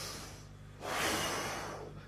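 A voice imitates cows breathing heavily while grazing at night, a single bellows-like snorting exhale swelling up and fading, close and alone.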